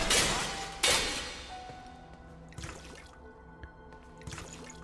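Containers shattering and spilling water in the video game Enshrouded: a sharp break near the start and another around one second, followed by softer splashy drips and thuds that fade, with no talking.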